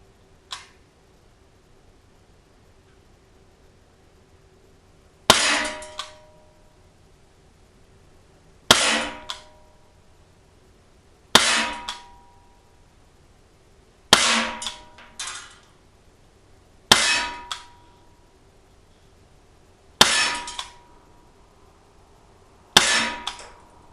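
Sig Sauer ASP P320 CO2 blowback .177 pellet pistol fired in a string of eight sharp, evenly spaced cracks, each with a short metallic ring, standing out loud and close over a quiet background.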